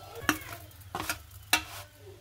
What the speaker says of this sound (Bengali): তো বাকিগুলোকে আমি এভাবে ভেজে নিচ্ছি।